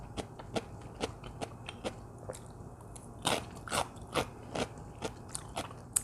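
Crunchy fermented cucumber kimchi is bitten and chewed, giving a series of sharp, close crunches in an uneven rhythm, growing louder and denser partway through, with no talking.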